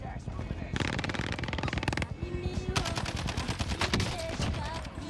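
Rapid automatic gunfire in Call of Duty Warzone, heard as loud, dense bursts of shots with brief gaps between volleys, close and dominant throughout.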